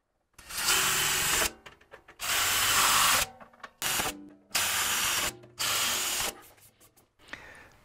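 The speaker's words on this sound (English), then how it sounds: "So let's get these holes drilled." A power drill bores holes in sheet metal in short bursts, roughly four loud whining runs separated by brief pauses and clicks, close up with no talking.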